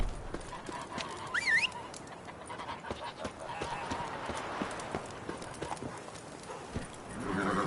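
Hooves of the horse Roach clip-clop steadily in a video game, with a brief whistle-like tone and a voice speaking over the rhythmic footfalls.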